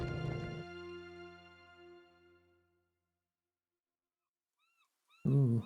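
Cat in the video game Pillars of Eternity 2 giving a drawn-out meow that fades away, then after a pause faint chirps and a second short, loud meow.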